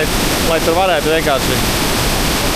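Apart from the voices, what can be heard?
waterfall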